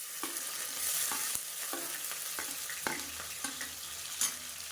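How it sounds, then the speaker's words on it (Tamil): Chopped onions fry in a pan for chicken biryani, a steady close sizzle with scattered clinks and scrapes of stirring throughout and no voices. "இப்போ இதில் பொடியாக நறுக்கில் வெங்காயம் சேர்த்துக்கலாம்."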